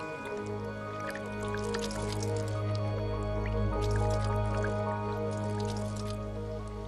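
Water poured onto taro plant leaves drips and splashes in soft wet patters over a steady low hum, the droplets clustering in short bursts close by.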